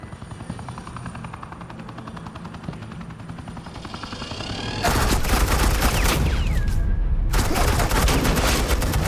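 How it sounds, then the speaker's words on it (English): Suppressing gunfire in the video game Batman: The Enemy Within, where a droning helicopter gives way to sustained loud automatic bursts that stop briefly and then resume. "suppressing fire."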